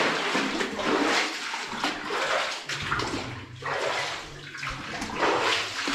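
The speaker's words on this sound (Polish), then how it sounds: "Tu się jest trochę więcej wody." Water sloshing and splashing underfoot in a flooded tunnel of an old mine, loud and close, coming in repeated surges with each step and no talk over it.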